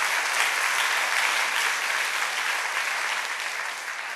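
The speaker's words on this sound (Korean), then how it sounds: "우리 큰 박수로 한번 격려해 주시면 감사하겠습니다." A church congregation gives a big round of applause to encourage its youth, dense sustained clapping filling the room at a steady level before tapering slightly at the end.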